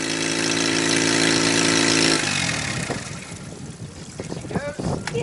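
A boat engine idles loudly and steadily at first, then cuts out abruptly as the carburetor runs dry. Fainter clunks, squeaks and a brief voice follow in the quieter remainder.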